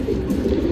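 A male Tambral patta pigeon coos in a steady, low, continuous murmur, close and fairly loud, with no voices over it.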